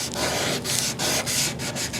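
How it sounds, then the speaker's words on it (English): Hand sanding scuffs across a cured resin tray in steady back-and-forth strokes, close and fairly loud, with short pauses between passes and no talking. "I'm only hand sanding it because I still am only going to be pouring into the bottom of the channel."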